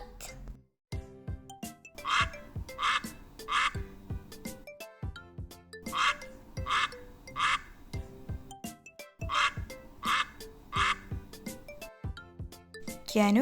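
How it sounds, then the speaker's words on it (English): A farm duck quacks in quick clusters of loud, nasal calls that repeat several times over a lively musical backing track. "Duck."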